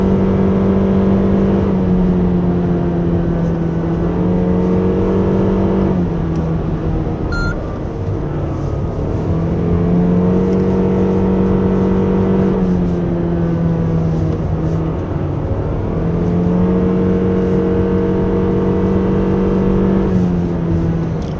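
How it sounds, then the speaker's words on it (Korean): The 2.5-litre hybrid engine of a 2024 Toyota Alphard revs high in fourth gear on a winding road. It makes a loud, steady droning hum whose pitch sweeps up and down in long cycles, with no talking. "그러니까 3단 상태에서 레드존을 도달해서 4단으로 올라갔는데요"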